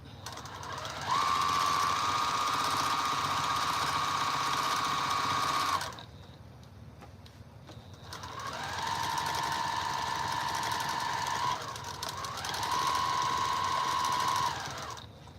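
A sewing machine runs steady bursts of free-motion quilting, a loud, close, whirring hum with a constant pitch that stops briefly and restarts twice, no voices over it.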